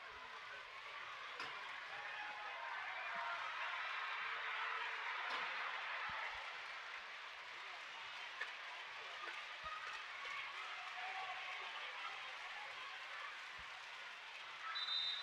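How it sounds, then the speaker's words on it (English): A crowd cheers and applauds at a wheelchair rugby match between New Zealand and Japan in the Asia-Oceania championship, a sustained wash of indoor crowd noise that stays fairly even throughout, without clear speech. "And the crowd knows Yeah. how to cheer."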